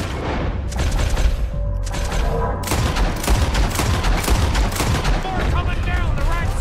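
Rapid bursts of gunfire and booming blasts in Red Dead Redemption 2 during a beach battle with cannons, loud and continuous volleys with shouting voices mixed in.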